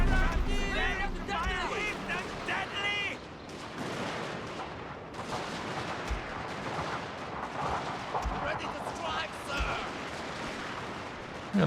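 Musket volleys crackle in Total War: Shogun 2, Fall of the Samurai, a dense battlefield clatter of gunfire with distant shouting troops, under someone talking throughout.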